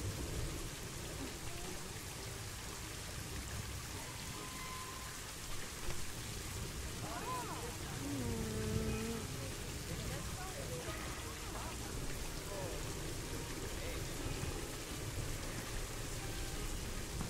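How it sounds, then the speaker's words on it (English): Rain in the zoo-building video game Planet Zoo falls as a steady, soft hiss with faint patter, and a low muffled rumble comes and goes under it. "next minute it's raining"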